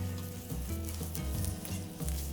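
A trimmed piece of wagyu beef sizzles in a hot pan with a steady, close frying crackle and low rumbling bubbling throughout.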